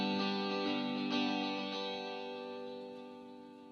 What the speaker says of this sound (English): So it's got a nice little reverb on the end,